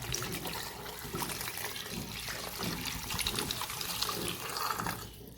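Water pours steadily into a cooker for a nahari stew, a continuous splashing rush that goes on without a break.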